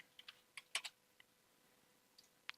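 Scattered keystrokes on a computer keyboard, a handful of quick, crisp clicks in short bursts with pauses between, close but quiet against a faint steady background.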